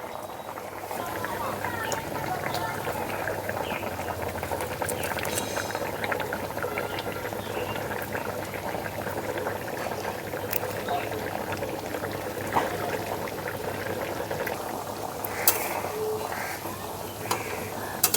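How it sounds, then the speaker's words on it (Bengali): Fish curry gravy bubbles at a steady boil as fried sarputi fish slide into the pot, a continuous simmering hiss with faint splashes and clinks, close and even throughout. "এখন ভেজে রাখা মাছগুলো দিয়ে দিচ্ছি ঝোলের মধ্যে।"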